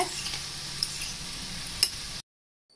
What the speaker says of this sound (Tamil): இப்போ நம்ம செஞ்சு வச்சுருக்கிற இது எல்லாத்தையும் இதில் போட்டு ஃப்ரை பண்ணி எடுத்துக்கலாம்.